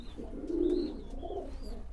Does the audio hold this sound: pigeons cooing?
yes